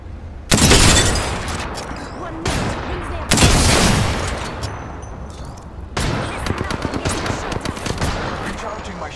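Automatic weapon fire in the Apex Legends battle royale game, several loud bursts of rapid shots with booming impacts, separated by short pauses, close and intense.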